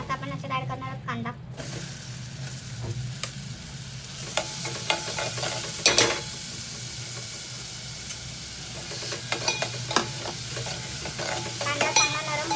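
Onion frying with cumin and mustard seeds in a pan, a steady sizzle broken by repeated stirring scrapes and clinks throughout, with a voice speaking faintly in the background at times.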